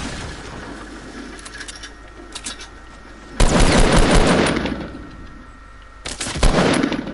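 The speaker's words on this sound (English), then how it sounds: "He was shooting me through the wall." Rapid automatic gunfire in a PS4 shooter, a long heavy burst followed after a short gap by another loud volley, with quieter scattered shots and rattling before them.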